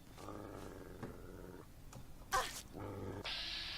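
Low, rumbling growl from a dog in Fallout 3, coming in short bursts at moderate loudness, broken by a sharp burst of noise and a steady hiss near the end, with no talk over it.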